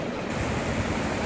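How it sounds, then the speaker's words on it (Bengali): Sea waves at Mandarmani beach on the Bay of Bengal roll in as a steady, loud wash of broadband surf noise with no voices over it. "সিঁড়িতে নেমেই সমুদ্র"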